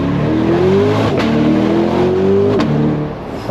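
A loud American V8 supercar engine revving hard with rising pitch, cut by two quick gear shifts that each drop the tone before climbing again, close up.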